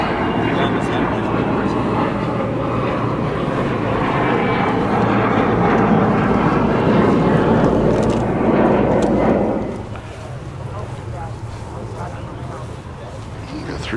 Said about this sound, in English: Another airplane taking off at Van Nuys Airport.